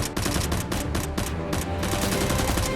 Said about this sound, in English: Both SWAT members fire back at the boss.